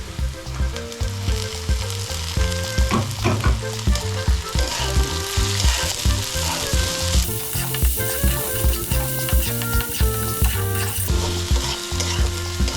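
Dried loitta fish frying with onion and garlic in a pan, a loud, continuous crackling sizzle close up, broken by repeated rhythmic scraping stirs throughout, with no voices.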